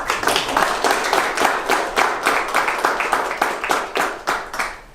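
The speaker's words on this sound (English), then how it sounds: "So I think he deserves a little round of applause." Steady audience applause at an art exhibit event, a close, continuous wash of many hands clapping for several seconds.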